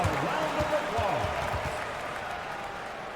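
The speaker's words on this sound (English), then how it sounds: "Give yourself a round of applause." Arena crowd at an NBA game between the Hawks and Magic, a steady broad roar of applause and cheering that holds loud and then eases slightly, with announcer-style voices mixed in.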